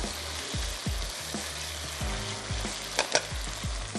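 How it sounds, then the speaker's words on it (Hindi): Cooked rice tossed and fried in a pan for Mexican rice, with repeated scraping stirs and soft thuds over a continuous sizzle, up close and with no talk. "इसमें राइस ऐड करते हैं और थोड़ा सा राइस को इसके साथ दम भी लगा देंगे"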